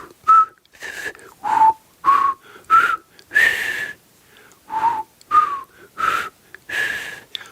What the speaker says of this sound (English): so what I did was I whistled a major triad